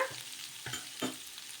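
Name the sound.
onion pieces frying in oil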